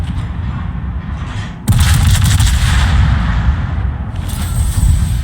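Naval guns fire in a warship video game, a steady rumbling barrage of low booms and blasts that jumps sharply louder partway through and stays dense and continuous to the end, with no talk.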